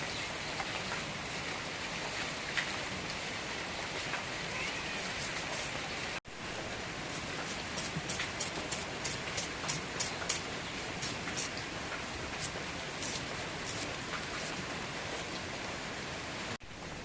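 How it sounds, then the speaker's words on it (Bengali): Steady rain falls on a rainy day while khichuri is being cooked, a continuous even hiss with scattered sharper drips standing out, and no voices. "বৃষ্টি এক সময় পড়তে আছে"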